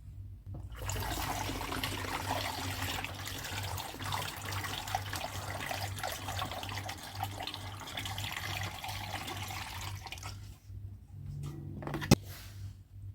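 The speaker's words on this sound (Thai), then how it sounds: "เดี๋ยวเราจะเทลงถังสำหรับบ่มเลยค่ะ" Mango wine made from mango hao pours steadily into a fermenting tank through a strainer, a continuous gushing splash of liquid lasting about ten seconds, then tapering off to quiet with a brief knock near the end; no talking.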